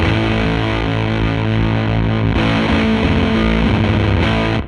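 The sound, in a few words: gated fuzz from Benson Amps Deep Sea Diver pedal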